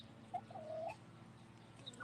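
Chickens in a backyard flock of lavender Orpingtons and barred rocks cluck softly nearby, with a few short squawks and calls over a steady low hum, no talking.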